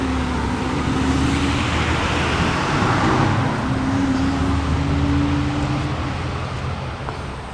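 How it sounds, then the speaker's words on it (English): A big truck passes on a road near a forest campsite in Upper Michigan, producing a loud, sustained roadway roar with a steady engine drone that holds for several seconds and then eases off toward the end. "big giant truck again"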